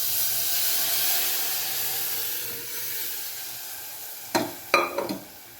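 Fenugreek vegetable curry, made with boiled fenugreek and buttermilk, sizzles steadily in a pan after tempering, a continuous hiss followed by a few sharp stirring clatters near the end.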